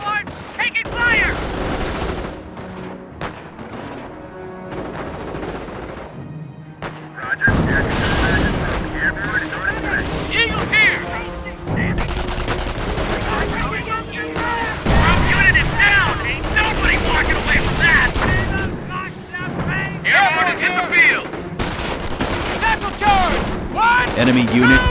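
Dense World War II battle in Company of Heroes near Sottevast, Normandy: sustained rifle and machine-gun fire with heavy booming explosions, loud and continuous with sharp bursts, shouted unit voices mixed in.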